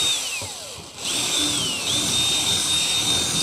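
A power drill bores a hole through fiberglass on a 1975 Chevy G30 van, its whine loud and close, falling in pitch as the bit bites in, then rising and settling into a steady high drone.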